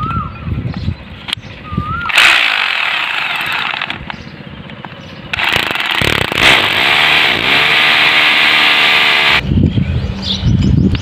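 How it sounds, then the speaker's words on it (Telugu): An 8 mm drill boring holes while fitting a satellite TV dish, two long loud whining bursts of drilling separated by brief pauses and handling noise, close up. "8 mm డ్రిల్ అనేది వేసుకొని హోల్స్ అనేవి వేస్తాను"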